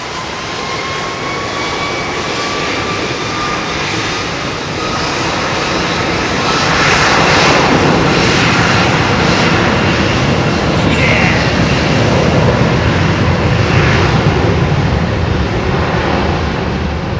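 A Pratt & Whitney-powered aircraft at London Heathrow makes a long engine spool-up, a loud, close roar that thickens and grows louder partway through, with rising whining tones before it settles into a sustained rumble, alone.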